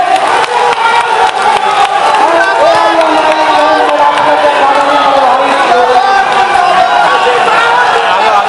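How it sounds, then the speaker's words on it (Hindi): A large crowd at a political rally cheers, whoops and shouts continuously to welcome a politician, a loud, sustained roar with clapping mixed in and voices rising and falling throughout. "मंत्री श्री असुद्दीन ओवैसी साहब को कि वो आए, आप लोग जोरदार तालियों से उनका स्वागत कीजिए"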